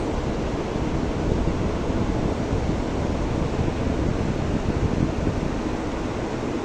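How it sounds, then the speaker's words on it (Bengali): A constant roar of heavy rain mixed with strong gusting wind on the islands of Bhola and Hatiya, Bangladesh, loud and unbroken throughout. "বৃষ্টি হচ্ছে, বৃষ্টি মুষলধারে বৃষ্টি, বাতাস, প্রচণ্ড বাতাস সাথে"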